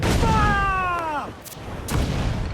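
Ship cannon fire during a naval battle in Assassin's Creed IV Black Flag: a loud booming volley with rumbling tails, followed by two sharp bursts, with voices shouting over the action.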